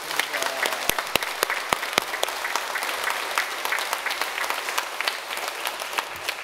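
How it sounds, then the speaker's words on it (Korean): A church congregation claps enthusiastically together, a dense, sustained burst of applause filling the room for several seconds. "다시 한번 박수해요."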